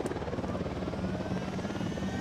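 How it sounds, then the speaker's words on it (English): A helicopter in the video game Ghost Recon Wildlands, a steady low rotor drone and engine hum that holds at an even level throughout, with no talk over it. "chopper's approaching."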